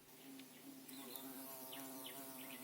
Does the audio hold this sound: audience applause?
no